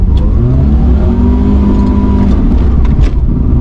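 A BMW E21 revs hard with its wheels spinning, the engine note rising and falling loudly and close up in a continuous strained whine, with no talking.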